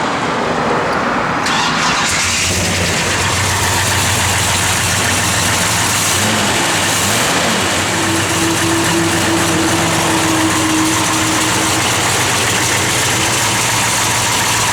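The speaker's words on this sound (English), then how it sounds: "Nice little sounding big block in it." A big-block V8 engine in a 1967 Dodge Coronet 440 convertible idles steadily and loudly nearby, a constant rumbling drone throughout with no voices.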